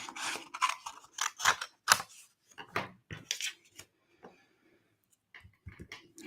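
Scissors snip through a piece of card at a craft table, sounding as a series of sharp close cuts and rustles in irregular bursts, fainter toward the end.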